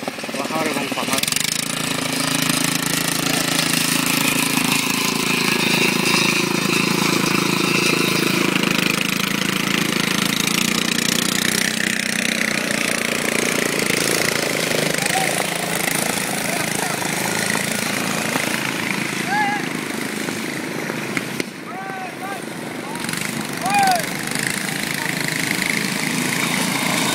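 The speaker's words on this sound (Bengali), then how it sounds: "একটি নৌকা চলে যাচ্ছে" A motor boat travels through heavy waves among hills, its engine giving a steady, loud, rough drone that holds for the whole stretch.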